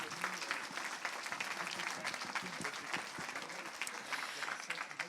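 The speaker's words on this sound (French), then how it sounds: "Dans un tonnerre d'applaudissements, venez vous asseoir," Steady applause from a seated conference audience at a landscape architecture panel, dense and sustained throughout as a panelist comes up to take her seat.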